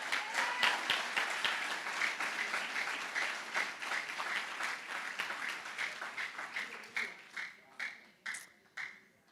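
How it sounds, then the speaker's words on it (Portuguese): Congregation applause during a church service, a full round of clapping that thins out toward the end into a few distinct, spaced claps. "Aplauda o Senhor Jesus"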